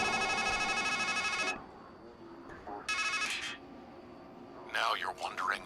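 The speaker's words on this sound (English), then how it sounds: "Go back to pick up the phone." A telephone rings in the video game Strangeland, two loud electronic bursts of ringing separated by a pause, followed by a brief eerie sound near the end.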